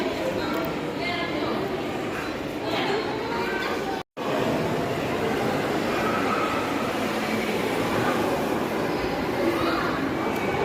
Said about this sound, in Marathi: आता साईदादाला आणि मुलं बसायचं ट्रेन आहे